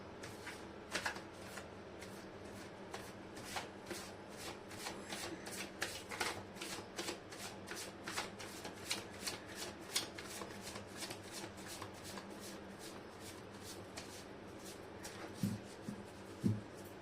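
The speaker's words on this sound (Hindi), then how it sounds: "कार्ड के शफलिंग अच्छे से सब शफल करना जरूरी है" Tarot cards being shuffled by hand, a long run of rapid crisp riffles and slaps repeating steadily at close range, with a couple of soft thumps near the end.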